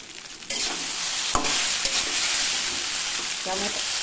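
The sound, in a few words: stirring fried potato into chow mein in pan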